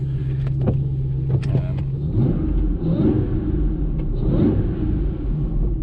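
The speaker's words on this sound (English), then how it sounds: "you can definitely hear the intake a lot more inside the car" A Jaguar supercharged V8's deep, steady rumble with a low intake drone, rising slightly as it revs, heard from inside the car.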